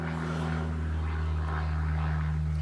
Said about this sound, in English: Seriously, airplane